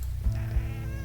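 A cat meows in the adventure video game Kathy Rain 2: Soothsayer, a short soft double meow heard under steady game music, with no talking.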